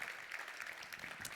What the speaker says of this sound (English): Round of applause for Della.